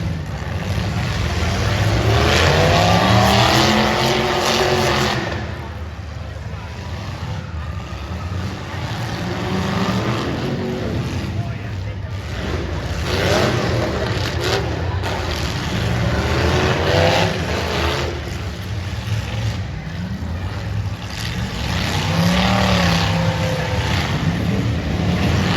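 Engines of windshield trucks at a demolition derby roar and rise and fall in repeated revving surges, loud and continuous, with no distinct crash impacts standing out.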